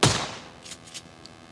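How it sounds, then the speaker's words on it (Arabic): A single gunshot in the battle royale game PUBG, a sharp crack that opens the clip and fades into a short echoing tail, quiet overall, with a few faint ticks following. "اي انا سمعت صوت طلقة."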